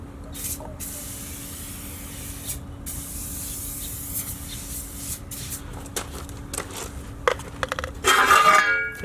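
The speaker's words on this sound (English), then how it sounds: "finally we'll have a quick spray inside" Quick bursts from a spray can inside the ash area and door of a Stumps Junior smoker being seasoned, soft steady hissing over a low background hum, ending in a louder, closer rattle-like spray.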